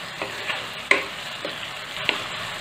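A capsicum, potato and tomato sabji cooking over a medium flame sizzles softly in a pan, with a few scraping stirs and a sharper clink of the spoon against the metal, and no talk.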